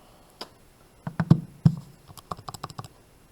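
Keys pressed on a calculator while entering a logarithm expression: a quick irregular series of close, crisp plastic clicks, a few spaced taps and then a faster burst, with no talk.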